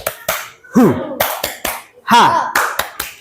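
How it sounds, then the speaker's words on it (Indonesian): A classroom of pupils claps in short rhythmic bursts for a spirited class chant, sharp claps spaced out in a pattern, interleaved with chanted voices. "Coba tepuk semangat."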